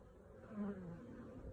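A big hornet buzzes in a bee apiary, a steady low drone that swells louder as it passes close around the middle, then holds on at a fainter level.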